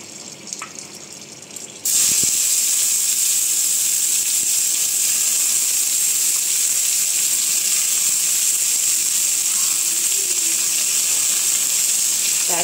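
Bitter gourd hits a hot oil pan seasoned with whole and green chillies, bursting into a loud, steady sizzle that continues evenly after a quieter opening.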